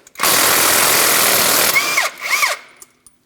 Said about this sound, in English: use your 19mm to remove the crankshaft bolt